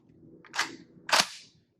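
Two sharp shots ring out about half a second apart from a Tavor TS-12 bullpup shotgun on a range, each a loud crack with a brief decaying tail, and no voices are heard.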